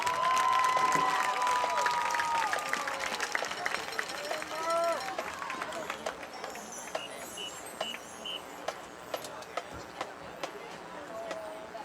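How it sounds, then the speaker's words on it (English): Crowd at a Roane County versus Braxton County game applauds and cheers for the Roane County Raider marching band, a swell of clapping and shouts that fades into scattered claps and nearby chatter. "applause for the Roane County Raider marching band."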